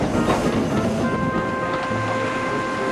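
Small toy train engines rolling along rails, a steady clattering rumble with a sustained whistle-like tone, continuous and fairly close throughout with no talking.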